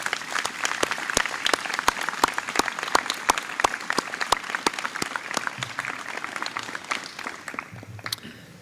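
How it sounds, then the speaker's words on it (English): Audience at a high school graduation ceremony applauding the teachers, loud continuous clapping with crisp nearby hand claps, tapering off toward the end. "please join me in a round of applause for the NHS teachers"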